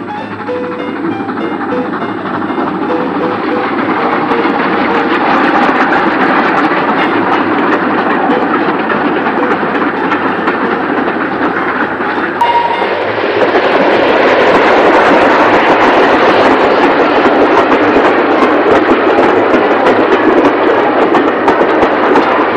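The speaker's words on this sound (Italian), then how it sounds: "avere una documentazione di questi treni col sonoro originale" A steam train running on rails in Italy, recorded with its original sound, a loud continuous rumble and rattle of wheels and carriages that grows heavier and brighter partway through.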